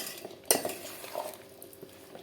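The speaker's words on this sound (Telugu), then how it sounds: "నూనె సరిపడకపోతే మళ్ళీ తర్వాత అయినా పోసుకోవచ్చు అనమాట అందుకే నేను కొంచెం వేసాను కొద్దిగా బాగా కలుపుకొని ముక్కలకు పట్టేటట్టు నీట్గా" Small mango pickle pieces are mixed with oil in a bowl, heard as one sharp clink of a spoon against the dish followed by soft, close scraping and stirring, quiet and without any voices.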